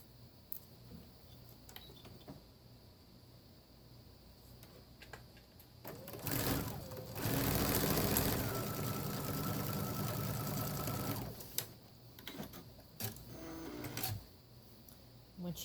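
A home sewing machine stitches quilted table runner patches, first in faint short bursts, then in one loud, steady run of several seconds, followed by quieter intermittent stitching and small clicks.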